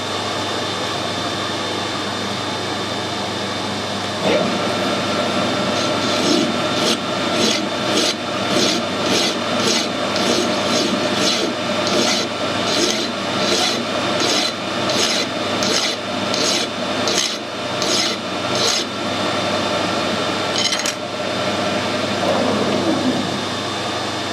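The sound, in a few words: metal file tapering a 1/2 inch fitting end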